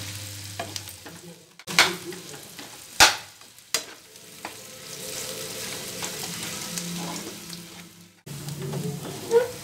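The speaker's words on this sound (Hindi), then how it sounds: "ये आलू डाल देंगे हम जो हमने मैश करके तैयार किया था। फ्लेम को तेज कर दिया मैंने और इसको अच्छे से भूनूंगी।" Mashed potato for aloo paratha filling fries and is stirred in a pan over high flame: a continuous close sizzle with scraping stirs and a few sharp knocks of the spoon, with no voices.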